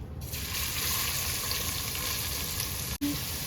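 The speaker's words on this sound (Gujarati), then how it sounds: "તેલ ગરમ થઈ ગયું છે તો પહેલાં તો આપણે નાખી દઈશું હિંગ અને પછી આપણે નાખીશું ડુંગળી" Asafoetida and onion sizzling in hot oil for a prawn dish, a steady loud frying hiss that fills the whole clip, broken by one brief drop near the end, with no talking.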